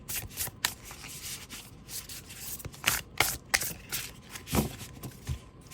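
A deck of tarot cards being shuffled by hand close to the microphone, a series of quick papery riffles and soft slaps in irregular bursts, fairly quiet with no talking.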